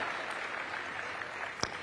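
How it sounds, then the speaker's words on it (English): An audience claps at a large launch event in a Nairobi conference hall, a dense, even wash of applause heard from a distance, steady throughout with one sharper clap standing out near the end. "Let's give him a round of applause as he makes his way up."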